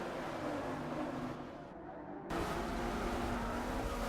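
Race car engine in Forza Motorsport 6, a steady loud roar holding throughout with a brief dip midway, like a fast car accelerating on track.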